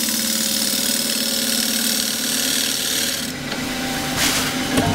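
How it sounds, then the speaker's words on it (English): A half-inch spindle gouge cuts a roughed wooden bowl remounted on a lathe, producing a steady, close rasping hiss over the low hum of the running lathe that shifts slightly as the cut changes. "This is the half-inch spindle gouge again. On its side to start with, then just open the gouge up a bit and just pull it back."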